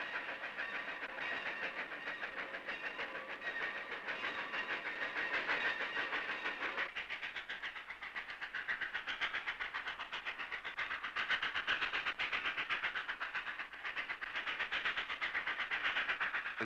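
Train rolling through Tehran's railway station in South Tehran, a steady loud rumble with rail clatter and hissing, continuous throughout with a brief shift partway.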